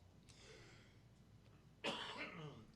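A single harsh cough bursts out loudly after a quiet stretch of faint throat noises, close to the microphone.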